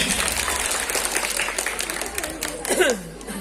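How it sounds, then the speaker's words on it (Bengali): An audience at a school recitation event claps for a sixth-grade student who performed an English poem, a continuous patter of hands with talk running over it. "আমরা তার উৎসাহ উদ্দীপনার জন্য একটি হাততালি দেবো প্লিজ"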